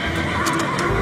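Toy zebra gives a loud, close horse-like neigh and whinny that sounds out alone and steadily for about a second.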